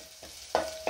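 Onions with turmeric fry in a pan as a spoon stirs them, producing a soft sizzle broken by a few quick scraping strokes, close and moderately loud, no talking.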